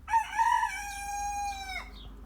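An İspenç rooster crows once, loud and close, a long drawn-out call that rises and then breaks off at the end.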